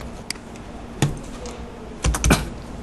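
Quick taps on a computer keyboard while drafting a drill jig, the Enter key struck firmly near the end in a short cluster of clicks, close and clear with no talking.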